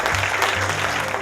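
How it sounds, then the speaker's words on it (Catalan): Brief burst of audience applause in Girona during a live Catalan dictation event linked across Catalonia, a dense, steady patter of many hands lasting just over a second. "Un aplaudiment, sisplau, per Girona"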